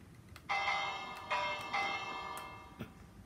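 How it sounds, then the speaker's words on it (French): A village bell in the video game Minecraft rings out in four separate metallic strikes, each leaving a long, bright, sustained ring that fades slowly before the next one, heard alone without talking. "Oh, une cloche, j'ai envie de sonner."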